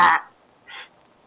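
A bird's harsh, awful squawk, one short loud burst followed by a fainter second call after a brief pause.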